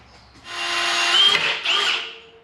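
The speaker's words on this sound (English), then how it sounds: "So we'll drill 5 on the side and 4 on the bottom" A power drill bores bolt holes for the legs of a wooden farm sign, one continuous loud whine lasting about two seconds with a brief dip in pitch midway, close up.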